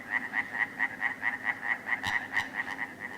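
A European tree frog calls with its vocal sac, a fast regular series of about fourteen sharp, nasal croaks. It is close and steady, with faint background noise behind it.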